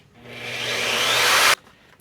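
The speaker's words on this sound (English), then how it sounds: "Next I'm going to drill the 4 corners." A power drill whirs and bites into a boat panel, drilling a corner hole for flush-mount electronics, its pitch rising steadily for about a second and a half before stopping abruptly.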